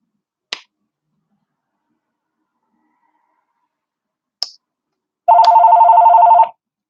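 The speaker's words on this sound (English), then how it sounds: "And my phone rang." A phone rings once near the end with a short, loud electronic trill, preceded by two sharp isolated taps in an otherwise silent room.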